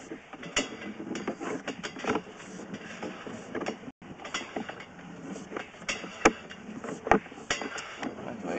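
A sewer inspection scope camera cable is reeled back out of a cast iron sewer line, a busy run of mechanical clicks, ratcheting ticks and sharp knocks that continues steadily with no one talking.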